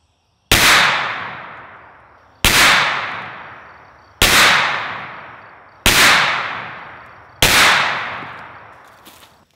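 Five loud, sharp gunshots from a Ruger PC Carbine at a shooting range, fired one at a time at steady intervals of about two seconds, each with a sudden crack and a decaying echo tail.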